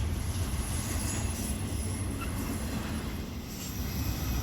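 A night freight train led by three locomotives, numbers 6959, 8089 and 9871, rolls past as a loud, continuous rumble of wheels and cars with a faint high squeal riding over the steady roar.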